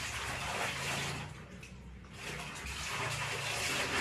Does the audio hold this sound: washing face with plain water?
yes